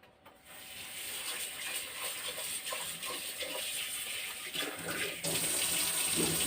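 Rice or lentils for idli batter washed in a vessel under running tap water, a steady splashing and gushing flow that grows slightly louder toward the end, close and without speech.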